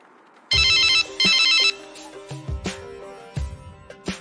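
A phone rings loudly with an incoming call, two close electronic ring bursts in a row, followed by quieter tonal notes and soft clicks as the ringing stops, with no talking.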